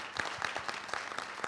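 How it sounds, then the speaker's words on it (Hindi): A brief burst of audience clapping greeting a guest at a gathering, a scattered crowd applauding in quick uneven claps, fairly faint and without voices. "कैसा तालियों से स्वागत होना चाहिए।"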